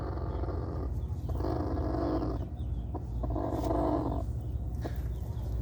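A low, rough growling rumble from a brooding hen being petted comes in two sustained bursts with brief pauses between, close by and fairly loud.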